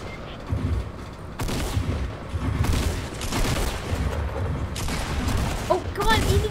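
Gunfire from the Fortnite video game, a burst of rapid shots and impacts mixed with loud game effects, with excited players talking over the action throughout.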